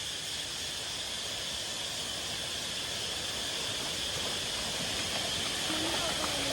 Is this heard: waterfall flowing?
yes